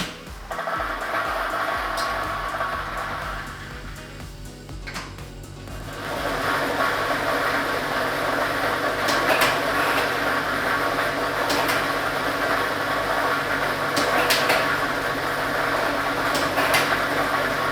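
A lottery ball drawing machine runs and mixes numbered balls during a state lottery draw, giving a continuous dense rattling and whirring that swells louder after a short lull and carries on steadily, with no talk over it.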